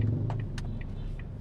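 Low, steady engine rumble inside a car, close and continuous, with a few faint light clicks or rattles over it.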